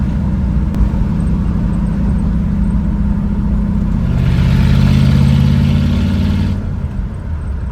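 A 1965 Ford Mustang Fastback, a classic car for sale, drives with a loud, steady engine drone. The engine swells in a short rev midway, then settles back, with no voices.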